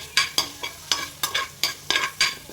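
Fish slices for a Kerala choora curry fry in hot oil in a pan, giving sharp bursts of sizzling and stirring scrapes in an irregular rhythm, close and clear with no talk.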